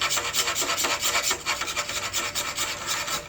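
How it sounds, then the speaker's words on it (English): A ferro rod striker scrapes shavings off a piece of fatwood in quick, repeated rasping strokes, close and crisp, with no talking. "I'm sure a lot of people know that they could use a striker in order to get the shavings off of a piece of fatwood"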